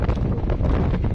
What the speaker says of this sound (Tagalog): Malakas ng malakas ang hangin.